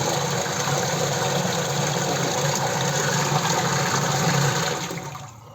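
Water drains out of a low-cost domestic washing machine in a steady, loud rushing gush that holds for several seconds and then tapers off near the end.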